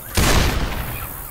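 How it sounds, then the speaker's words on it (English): A single heavy sniper rifle shot in Left 4 Dead, a sharp loud crack followed by a long booming decay that lingers for about a second. "Gua bunuh dulu pakai sniper."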